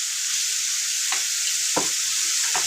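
Potato pieces frying in oil with turmeric and salt, a constant close sizzling hiss with a few brief scraping stirs of a utensil, no voices.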